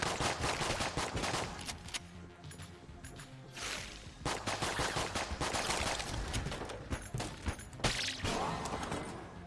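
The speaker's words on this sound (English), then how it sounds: "I like how fast I can shoot this gun." Rapid gunfire from a gun in the video game Enter the Gungeon, fast bursts of loud shots that pause briefly and then resume with sharp impacts, nearby and dense.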